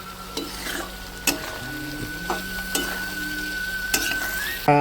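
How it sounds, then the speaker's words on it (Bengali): Potatoes sautéed with spices in a pan, a spatula clacking against the metal in several distinct scrapes and knocks over a gentle sizzle, close by, with a faint steady tone underneath and no talking. "এবার আলুটাকেও দিয়ে ভালো করে আমি মশলার সঙ্গে কষিয়ে নেবো"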